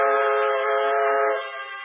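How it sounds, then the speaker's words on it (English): A steam train whistle sounds in a radio drama effect, a loud, steady tonal blast that holds for about a second and a half and then drops in level as it trails off, with no voices. "Steam pressure is up, and we're off on the second leg of our swift journey across America on this peacetide Christmas Eve."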